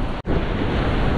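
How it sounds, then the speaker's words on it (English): Wind blows hard across a beach during metal detecting, a loud continuous rush with surf mixed in and one very brief drop, all without voices. "Windy, windy,"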